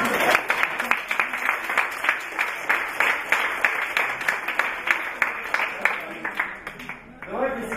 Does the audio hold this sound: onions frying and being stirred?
no